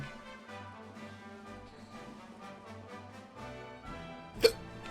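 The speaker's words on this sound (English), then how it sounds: "I got hiccups and I hate it." A single sharp hiccup breaks through near the end, over game music with a steady rhythmic backdrop and no talk.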